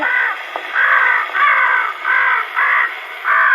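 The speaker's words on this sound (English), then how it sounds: "Now, look out for that crow." A crow caws six times in a steady, evenly spaced rhythm on an old 1920s recording, each call loud and harsh over constant surface hiss.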